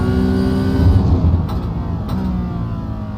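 Race car engine in a racing video game, heard from the cockpit view as a loud, steady, close drone that shifts slightly in pitch, with no voices.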